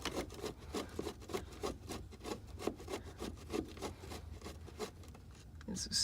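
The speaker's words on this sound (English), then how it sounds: "There's one right here that I'm unscrewing right now." A dashboard screw is being unscrewed in an Opel GT, giving a quick series of soft rhythmic scraping and rubbing strokes, faint and close, each lasting a fraction of a second.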